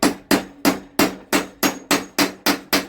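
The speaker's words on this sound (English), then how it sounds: "Let me tap that on and we'll try and get them off." A hammer taps a socket onto a wheel nut on a Wheel Horse cutter deck, striking nine sharp, evenly spaced metallic blows close by with no talk.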